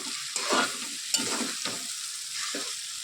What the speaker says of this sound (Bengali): এর সাথে ভালোভাবে মিক্স করে নিয়ে ভেজে নেব।